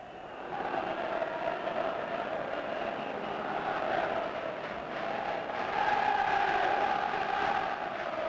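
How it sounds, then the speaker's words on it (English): A large football stadium crowd waits before a 1990 FA Cup semi-final replay, making a continuous, broad roar of massed voices that swells slightly toward the end. "The crowd expectant"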